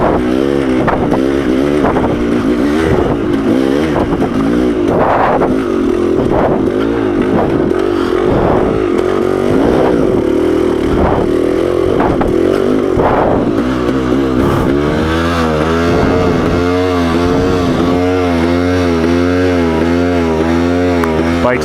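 A 2-stroke dirt bike running hot while riding over loose rocks, its engine buzzing and revving steadily up close, with clattering and scraping from the rocky ground throughout.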